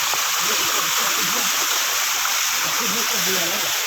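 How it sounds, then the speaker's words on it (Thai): A cool streamside by a garden where bamboo worms are gathered, with water rushing and splashing in a steady loud wash and faint gurgles throughout. "อ๋อนี่จะเป็นน้ำห้วยครับ"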